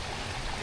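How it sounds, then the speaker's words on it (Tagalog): Steady, full rushing of stream water, a dense broadband roar with no pauses for the whole moment. "naririnig ko na yung tunog ng tubig na rumaragasa"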